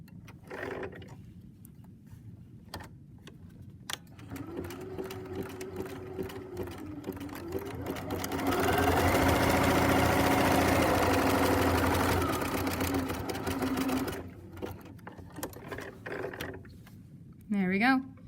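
Sewing machine stitching a fabric quarter bookmark, a steady mechanical whir that gets louder and faster in the middle, then slows and stops, with brief talk near the start and the end.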